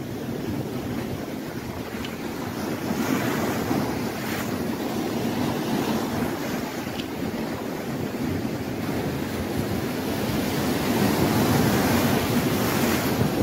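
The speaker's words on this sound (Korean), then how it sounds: "파도 소리가, 파도 소리가 들립니다." Continuous wash of sea waves breaking and surging on the coast at Yeongdeok, South Korea, heard while fishing, mixed with steady wind noise, loud and close throughout with no speech.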